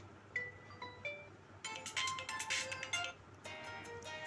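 A Realme 5i phone plays a ringtone preview from its settings menu: a few spaced chiming notes lead into a bright, busy melodic phrase, then a brief pause and the tune resumes, clear and close with no talking.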